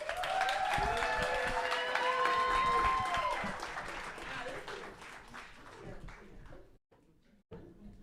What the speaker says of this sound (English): We want you guys to give a round of applause for Nicole King.